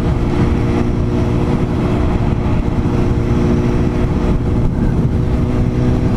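A Suzuki Bandit 650cc motorcycle cruises in fifth gear on a highway under resurfacing, its engine a steady loud low drone blended with constant wind rush, with no voices heard.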